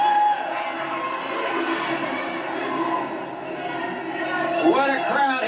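A packed live wrestling crowd cheers and shouts around the ring in a continuous roar of voices, with some higher children's yells rising toward the end.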